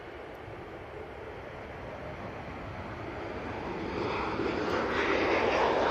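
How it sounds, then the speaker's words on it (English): A Ryanair Boeing 737-800 departs Manchester Airport, its jet engines a broad distant roar that swells steadily louder over several seconds, heard alone without talk. "we've got this Ryanair now departing"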